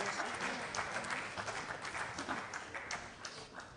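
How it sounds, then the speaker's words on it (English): Audience applause at the COMFESA inaugural symposium in Western Cape, a dense, even spread of clapping from a crowd, moderately distant and continuous for the few seconds heard. "let's give him a round of applause"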